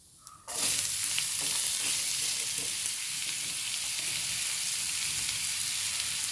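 Chopped bottle gourd drops into a hot pan with a sudden loud hiss, then a dense, even sizzle continues with faint stirring scrapes, close and without talk.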